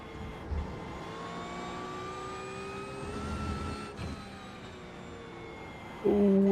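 A GT3 race car engine in the iRacing sim, revving with steady harmonic tones that climb and fall through gear changes, loud and continuous, with a sharp burst near the end.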